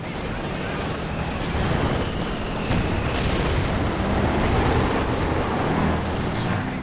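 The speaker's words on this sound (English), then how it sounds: "base howitzer fire coming down the centre as well" Howitzer artillery fire in Company of Heroes 2, a dense, continuous rumble of booms and gunfire across a game battlefield, loud and steady throughout.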